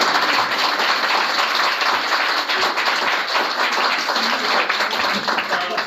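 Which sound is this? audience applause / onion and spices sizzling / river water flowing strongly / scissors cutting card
audience applause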